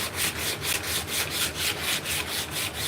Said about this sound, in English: But this belt sandpaper is so good for these roundovers.